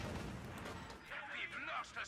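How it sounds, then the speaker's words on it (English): An artillery volley in Company of Heroes 2 lands on a conscript squad, a rumbling burst of blasts followed by whistling and debris, heard under a commentator's voice. "very nasty volley there right on top of that conscript squad"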